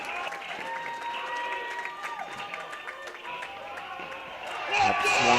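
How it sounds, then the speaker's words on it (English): Crowd at a men's college tennis match applauding and cheering from a distance, steady and moderately loud, rising toward the end, with commentators talking over it. "you're hearing the crowd noise on our headsets"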